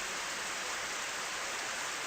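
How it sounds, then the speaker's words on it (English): Steady hiss of rain falling indoors in a video game, even and unbroken, fairly quiet with no voices or other sounds. "Is it raining inside or something?"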